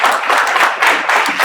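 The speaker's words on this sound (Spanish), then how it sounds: "un aplauso por favor para ellos" Applause from the audience at a conference panel on AI in business and finance, a dense, close burst of clapping that holds steady throughout.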